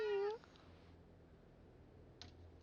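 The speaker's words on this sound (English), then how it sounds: "Don't just stand there meowing." A single cat meows in the video game Starfield, loud and close, as a short rising-falling cry. Faint room tone follows, with one soft click near the end.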